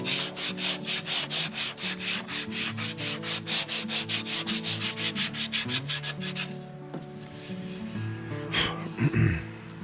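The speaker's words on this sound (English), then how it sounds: "I'm gonna start doing some hand sanding here" Steady rhythmic strokes of hand sanding over a carved wooden twin bass, close and continuous for several seconds before easing into looser, irregular rubbing.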